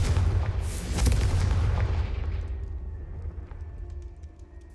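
Confringo fire spell blasting in Hogwarts Legacy, a loud booming explosion with a sharp burst up front and a second thump about a second later, then a rumbling tail fading away.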